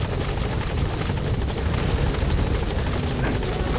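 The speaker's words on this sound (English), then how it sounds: "Support helicopter." A support helicopter arriving in Metal Gear Solid V: The Phantom Pain, its rotor thumping steadily with a loud, dense engine roar, close and constant throughout, with no voices.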